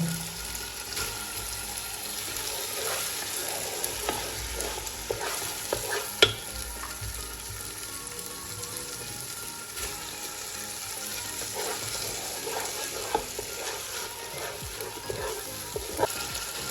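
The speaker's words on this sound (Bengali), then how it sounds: "চাউল দিয়ে ভালোভাবে আগে ভেজে নেব।" About 1.5 kg of rice is stir-fried in oil with fried onions in a pot for pulao, with repeated scraping and stirring strokes over a constant sizzle, close and steady.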